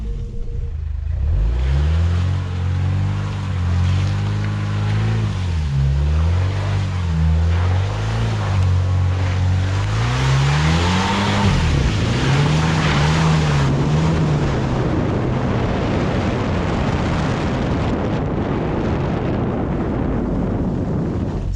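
A 2023 Fiat Pulse Abarth 1.3 turbo with six-speed automatic revs hard off-road in the brush, its engine note rising and falling in uneven surges, then holding a strained steady drone under wind buffeting.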